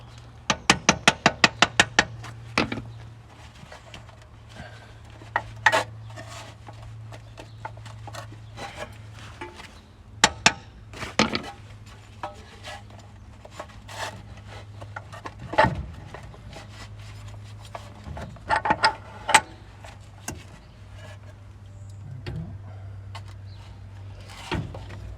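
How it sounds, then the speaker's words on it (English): A CV joint on a third-generation Toyota 4Runner is tapped loose for removal: scattered sharp metallic knocks, a quick burst of taps at first and then isolated blows, over a low steady hum with no speech. "I need to give the CV joint a few lug taps."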